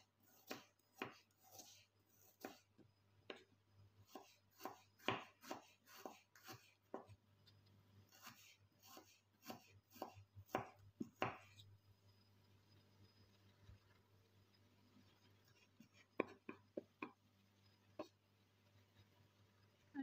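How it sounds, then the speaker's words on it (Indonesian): A knife thinly slices shallots on a cutting board, a run of rapid quiet taps and cuts that slows and thins toward the end, close and faint without speech. "Bawang merah juga kita iris tipis ya teman-teman."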